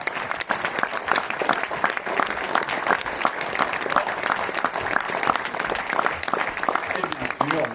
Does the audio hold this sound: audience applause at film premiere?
yes